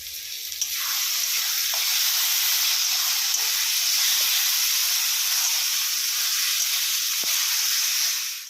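Water hits a hot pan of chicken masala and erupts into a loud, steady sizzle and hiss that holds evenly for several seconds before cutting off.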